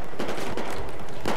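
Gunfire in the video game Battlefield 4: a loud, dense burst of rapid automatic shots with sharp repeated cracks fills the whole moment, close and continuous.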